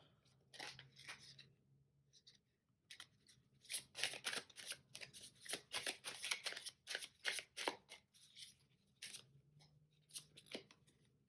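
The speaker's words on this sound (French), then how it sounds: "alors on va juste mettre une carte par-dessus" Tarot cards handled on a table during a reading, with a burst of crisp shuffling and slapping card sounds in the middle, a few soft isolated card taps before and after, and a faint low hum underneath.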